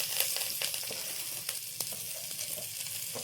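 Curry leaves fry in hot oil for a chicken fry dish, giving a steady close sizzle with small crackling pops and a few brief spatters throughout.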